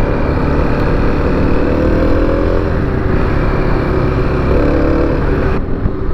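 A 2021 Kawasaki KLX300 single-cylinder motorcycle runs steadily and loudly from up close, its thumping engine note holding at a constant pitch with slight rises, like cruising under load, with no talk over it.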